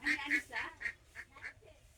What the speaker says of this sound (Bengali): একদম দেশি পাতি হাঁস